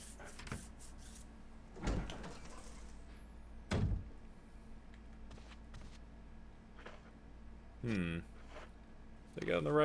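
Door opening in the Resident Evil HD video game: a few heavy thunks and creaks spaced out over several seconds, with a louder creaking swing near the end amid quiet ambience and some speech.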